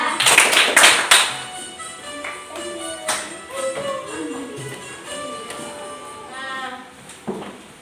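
A classroom of children claps the 'tepuk tanda balik' rhythm in a quick patterned burst during a teaching session, then the clapping fades into scattered voices and softer taps.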